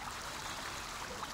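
Himalayan river water flows in a steady, broadband rush, constant and fairly close, with no voices.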